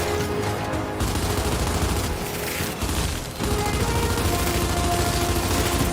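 Sustained gunfire in Gears 5, a thick continuous rattle of automatic weapons and blasts with brief dips, loud and close throughout, with no voices.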